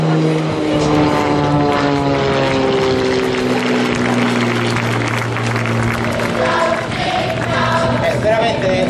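An aerobatic propeller airplane at the Jesolo Air Extreme 2012 air show drones loudly and steadily, its engine pitch rising and falling as it maneuvers, with crowd noise faintly underneath.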